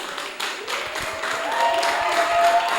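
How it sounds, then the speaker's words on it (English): A poetry slam audience breaks into clapping that swells and grows steadily louder over a few seconds, dense and fairly close. "A round of applause, please."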